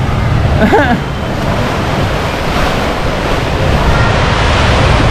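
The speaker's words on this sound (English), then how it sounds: "This is one of the wildest rapid rides I've seen in a minute" Fjord rafting rapids water ride at Europa-Park, with a steady loud rush of churning water and wind-like noise filling the whole stretch, and a brief faint voice early on.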